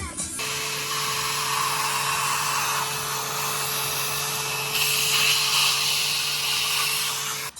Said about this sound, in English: Let's get the Hoover out quick.